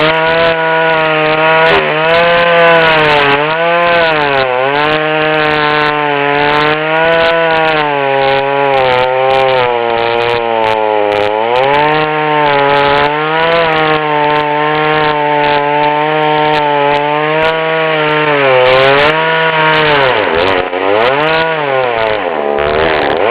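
A small Poulan 2000 chainsaw with a 12-inch bar cuts through wood. The engine snarls loud and close without a break, its pitch rising and dipping as the saw bogs in the cut and revs back up.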